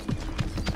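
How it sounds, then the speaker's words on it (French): Horse hooves clip-clop in the battle royale game Realm Royale, a few hollow low thumps spaced irregularly over a steady busy game background, fairly close and moderately loud. "Ah, j'ai entendu un cheval."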